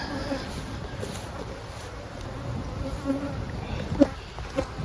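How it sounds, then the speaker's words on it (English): A steady, soft insect drone fills the clip, like many honey bees humming together in a hive at close range, with a few brief louder buzzes near the end. "Lots of bees are down the bottom."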